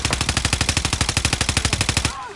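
Rapid automatic gunfire in a video game, a steady burst of roughly twenty evenly spaced loud shots over two seconds that stops abruptly near the end.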